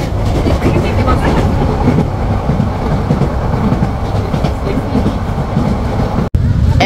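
A passenger train runs on its tracks while crossing the Karnaphuli river, giving a loud, steady rumble with rhythmic wheel clatter throughout and a brief dropout near the end.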